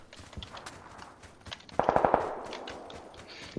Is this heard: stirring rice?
no